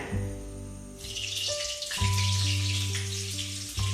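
Oil and melting butter sizzle loudly in a hot pan for pav bhaji, a steady broadband crackle swelling as the butter goes in, with no talking.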